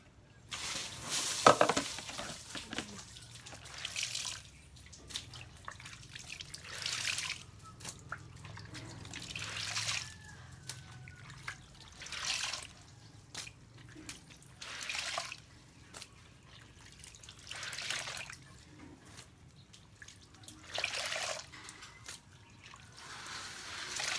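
Rainwater on a flooded second-floor balcony after a heavy night's rain, heard as soft, irregular splashing and trickling bursts at a fairly quiet, close level, recurring every few seconds over a low background hum.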